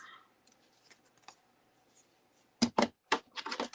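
A few quick, crisp snips of scissors trimming masking tape close by, clustered near the end after a stretch of quiet handling noise.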